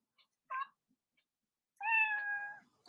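A cat gives two meows, a short one and then a longer, drawn-out call, both close and clear against silence.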